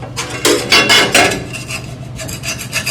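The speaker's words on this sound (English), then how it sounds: "you can probably take a scraper with that and take it off" A metal scraper rasps buildup off a Duke broiler in several close, harsh scraping strokes, loud at first and then lighter and quicker.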